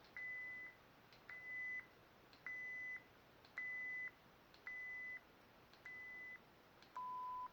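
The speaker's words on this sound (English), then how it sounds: "Pressing aux lowers the volume and you'll hear beeps." Six identical short beeps from a Proffie lightsaber sound board volume menu repeat at an even pace, then a final lower beep marks 10% volume; quiet and electronic, with no talking.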